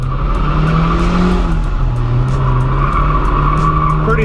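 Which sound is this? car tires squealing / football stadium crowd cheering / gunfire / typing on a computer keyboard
car tires squealing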